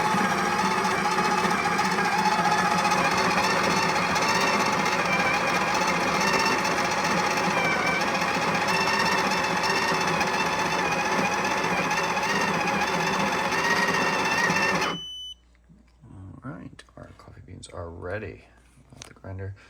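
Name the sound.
Breville Barista Touch espresso machine grinder grinding coffee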